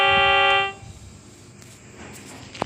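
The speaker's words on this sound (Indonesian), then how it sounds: "Yang pertama klakson CC206" A CC206 vehicle horn sounds in one steady, loud, bright tone lasting under a second and then cuts off, leaving only faint room noise.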